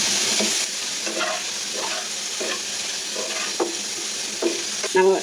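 Hilsa fish roe and fried eggplant cook in a pan with salt and chopped green chilies. A continuous sizzle runs throughout, broken by repeated spatula stirs and scrapes against the pan, with no talking.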